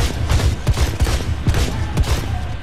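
Rapid bursts of gunfire from the video game Blades of Time, a run of sharp shots fired in quick, uneven succession, loud and close, with no talking over them.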